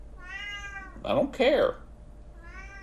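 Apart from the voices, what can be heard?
cat meowing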